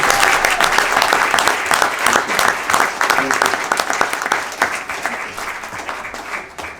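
An audience at an education and healthcare conference breaks into sustained applause, a dense wash of many hands clapping that stays loud for several seconds and then begins to thin out.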